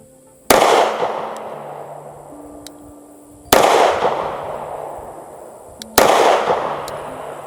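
A Kimber CDS9 pistol fires 124-grain +P Gold Dot rounds outdoors: three loud, close gunshots spaced a few seconds apart, each sharp crack trailing off in a long echoing decay.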